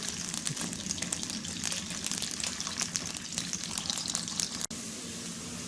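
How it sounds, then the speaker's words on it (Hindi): Onions fry in hot ghee in a pan for an aloo matar keema, giving a steady, close, crackling sizzle that holds at an even level throughout. "तो अभी हम इसके अंदर प्याज ऐड कर देंगे, मिक्स करेंगे, गोल्डन कलर होने तक हम इनको भून लेंगे,"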